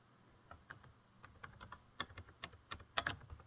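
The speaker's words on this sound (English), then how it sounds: "I'm just typing in the information that I found while I was researching." Typing on a computer keyboard, with irregular bursts of sharp key clicks that grow denser and louder toward the end, heard close up with no talking.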